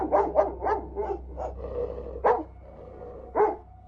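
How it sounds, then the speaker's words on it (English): A mostly friendly dog named Shaggy barks downstairs in a house, a run of quick barks followed by two more spaced ones, fairly close and clear over a low background hum, with no talking. "we heard the dog barking"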